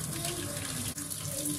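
Water from a pasta pan pouring out through an Emsa strainer lid, a steady close rushing splash into a sink that barely dips for a moment.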